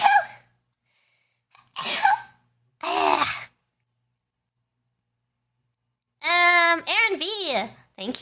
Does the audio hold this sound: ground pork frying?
no